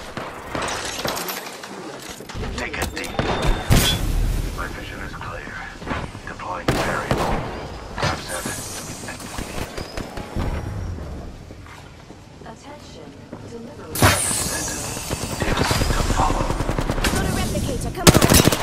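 Automatic gunfire in the video game Apex Legends, aimed at the player, rattles in repeated loud bursts with scattered impacts, while a voice talks between and over the shooting.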